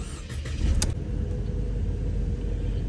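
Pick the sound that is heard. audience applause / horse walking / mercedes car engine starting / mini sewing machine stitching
mercedes car engine starting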